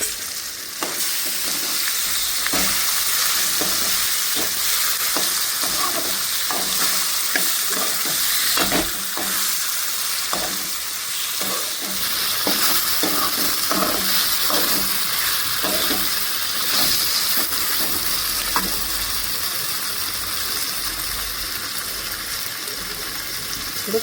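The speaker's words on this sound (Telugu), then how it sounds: "ఇప్పుడు గ్యాస్ సిమ్లో పెట్టుకొని ఈ చికెన్ వేసుకొని మంచిగా కలుపుకోవాలి" Marinated chicken for a village-style South Indian curry sizzles and fries in a pan on low gas while being stirred, with repeated scraping stir strokes over a constant loud hiss; no one speaks.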